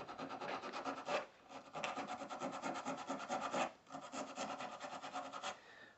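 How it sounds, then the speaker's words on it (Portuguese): Sandpaper rubbed by hand over the metal contact of a Mercedes-Benz MB 710 starter motor: quiet, close rasping strokes in a steady back-and-forth rhythm, about five passes in six seconds. "A gente pegar uma lixa. Pegar uma lixa e dar uma lixada aqui, ó."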